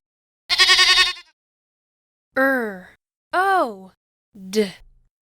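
A goat bleats four times in close succession, loud and near: one long wavering bleat, then three shorter rising-and-falling calls separated by brief silences, with no other sound.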